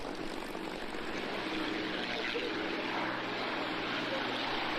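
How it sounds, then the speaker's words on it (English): A red and silver Spitfire takes off with a steady, loud propeller-engine roar that fills the air continuously and evenly throughout. "So Morris, that particular Spitfire that's going up now, the red and silver colour, what's that all about?"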